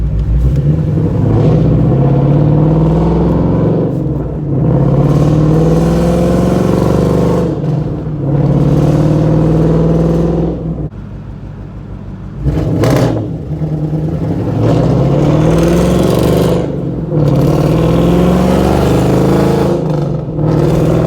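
A 5.0 car engine with a fully straight-piped exhaust revs repeatedly in loud bursts, rising and falling with brief drops to idle in between, close by.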